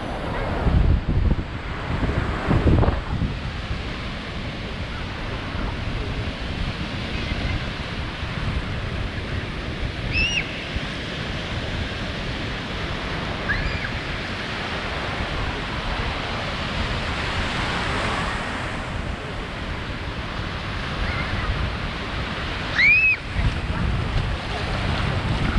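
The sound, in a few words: ocean waves breaking on the beach at South Padre Island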